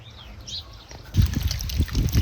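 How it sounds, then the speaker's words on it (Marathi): Water trickles and splashes from a drip irrigation pipe in a farm furrow while brinjals are washed under it, quiet at first, then busier low sloshing and dribbling. "ही ठिबकची नळी चालली ना तर म्हणलं ही वांगी ह्याच्यामध्ये धुवून घ्यावं इथं"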